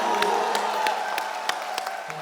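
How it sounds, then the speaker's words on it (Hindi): Studio audience applause on a television comedy show welcoming a family of qawwali singers, a dense steady wash of clapping with a faint musical tone underneath. "जोरदार तालियां हो जाए।"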